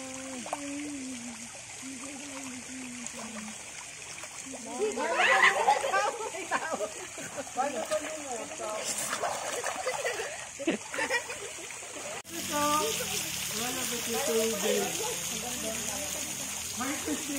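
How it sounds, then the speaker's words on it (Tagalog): Water gushing and splashing out at the Makulay Adventure Land water park, a steady stream of splatter with people talking and shouting nearby throughout. "Dito nalabas yung tubig."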